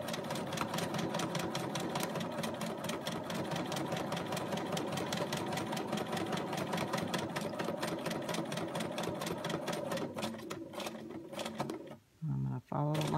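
A sewing machine stitches a traced design onto fabric, its needle chattering in a fast, steady rhythm close by for about ten seconds before stopping, with talk over it.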